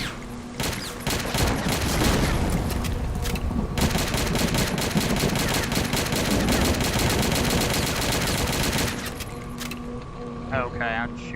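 Rapid automatic gunfire from a video game crackles in a dense, loud burst lasting several seconds, then stops, with a voice talking over part of it.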